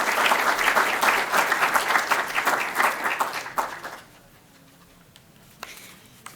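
A conference audience applauds loudly for several seconds, then the clapping thins out and fades to a few scattered claps in a quiet room.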